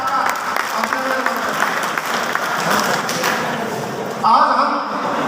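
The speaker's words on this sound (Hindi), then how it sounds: "जोरदार तालियों के साथ आपका अभिनंदन।" Loud crowd applause at a BJP political rally in Bhadra, steady clapping from a large gathering with a brief louder burst near the end.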